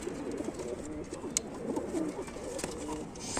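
Domestic pigeons in a loft of birds kept for sale coo softly and continuously, low burbling calls layered together at close range against a faint background hum.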